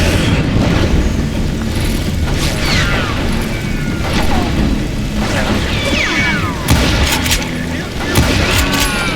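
Gunfire and booming shots from the Western shooter Call of Juarez: Gunslinger, set in a sawmill shootout, dense and continuous over loud game ambience with whistling ricochet-like streaks and repeated blasts throughout.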